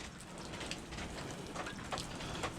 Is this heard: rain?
yes